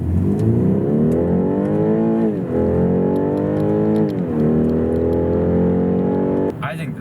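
A small four-cylinder car engine revs in smooth rising sweeps, three climbs in a row with harmonics gliding upward, loud and close, ending in a short burst of noise.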